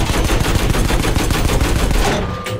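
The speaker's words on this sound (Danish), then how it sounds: "Du er på den store kanon." Rapid heavy cannon fire from a large gun emplacement in Battlefield 5 Firestorm, a loud dense stream of booming shots in quick rhythm that fades out near the end.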